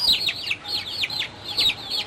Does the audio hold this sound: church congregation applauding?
no